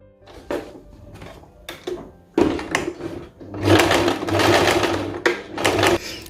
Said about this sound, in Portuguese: Eu vou passar a costura agora aqui por cima.